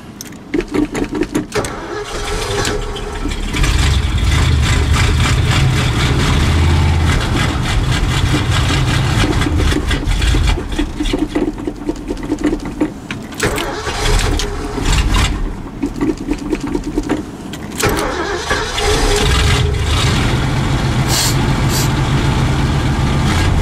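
A tow truck's engine starts cold in sub-zero weather after pedal pumping, with loud, rough cranking that catches into a heavy, uneven run and stays loud and close throughout.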